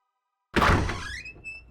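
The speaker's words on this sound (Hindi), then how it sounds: "जा दरवाजा खोल" A door being opened, a single close thunk followed by a short fading squeak and rattle, coming out of silence.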